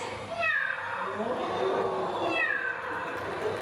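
A rescue bird at a bird park mimics two drawn-out cat meows, one early and one near the end, loud and close over a busy background with children's voices.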